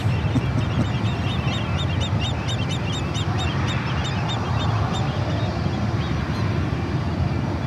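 Geese honk repeatedly in a dense flock near an airport, a steady chorus of overlapping calls over a constant low background rumble.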